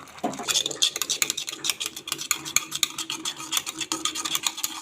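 Cooked flour batter for ambil is stirred in a pot, a rapid rhythmic run of thick scraping and patting strokes close by, with no talk.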